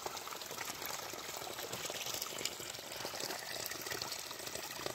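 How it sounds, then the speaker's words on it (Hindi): Water trickling and flowing out from between stones around a borewell, a steady broadband rush with a faint, even level and no voices throughout. "ये देखो अंदर से पानी निकल रहा है।"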